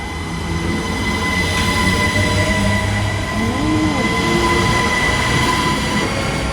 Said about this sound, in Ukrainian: Все, цей потяг поїхав, почекаємо наступного.